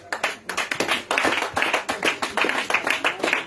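Congregation clapping at a lively prayer and testimony gathering in Touba, Côte d'Ivoire: dense, sustained applause of many hands, close and loud, with quick irregular claps pulsing throughout and no break.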